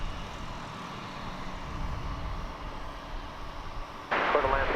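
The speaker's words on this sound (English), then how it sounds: "And another Airbus A319." Airbus A319 airliner at Dallas Fort Worth Airport, a steady engine roar heard from a distance that swells into a louder, brighter burst near the end.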